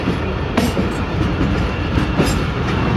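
The Kohat Express passes at Jand Junction with a loud, continuous rumble of rolling wagons, wheels clattering over rail joints in a steady rhythm close by.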